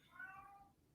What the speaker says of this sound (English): You guys hear my cat?